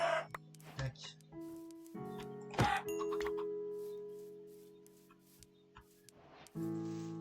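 Chickens in Minecraft clucking in short bursts, mixed with blocky game sound effects and a few chime-like tones, moderately loud and close.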